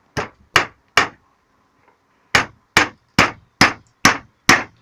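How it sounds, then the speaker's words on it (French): A hammer drives a nail into a replacement plank on a cabin: three sharp, loud blows, a pause, then six more evenly spaced strikes, close by with no talking. "Maintenant, on va mettre le clou."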